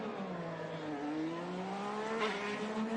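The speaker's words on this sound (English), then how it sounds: "If Ferrucci's going backwards at 40 miles an hour down the corkscrew, how about that? J-turn" An IndyCar race car spins backwards through a J-turn down the Laguna Seca corkscrew, its engine a loud, close, continuous drone that climbs steadily in pitch as it revs, with no voices over it.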